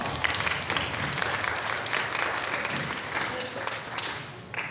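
A classroom audience giving a big round of applause before a student team project presentation, a thick, continuous clapping of many hands that swells and holds for several seconds, with faint voices underneath.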